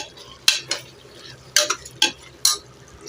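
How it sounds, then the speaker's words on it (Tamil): A spoon stirring salt through chicken biryani in a pot, giving a few sharp clinks and scrapes against the metal, spaced irregularly and close, with no talk. "நம்ம இந்த பிரியாணிக்கு தேவையான மொத்த உப்பையும் உள்ளே போட்டுடலாம் போட்டு மிக்ஸ் பண்ணிக்கலாம்"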